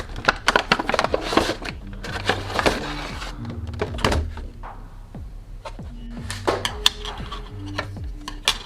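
A blade slices open plastic packaging on a McFarlane Dark Nights Metal Robin action figure, with close, sharp clicks and scraping ticks in irregular bursts over faint steady background music.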